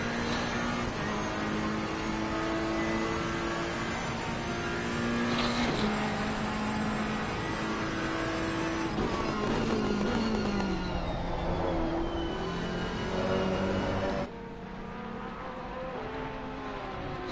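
Racing engines from a Ferrari and a Porsche in a sim racing game at Monza, a steady loud whine of several cars with rising and falling pitch sweeps as they pass, continuous throughout.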